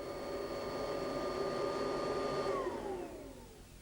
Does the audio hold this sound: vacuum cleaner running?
yes